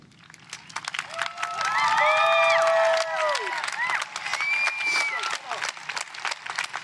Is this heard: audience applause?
yes